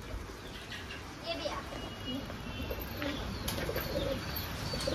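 Pigeons coo softly amid chirps and a faint flutter of wings, with quiet background noise throughout.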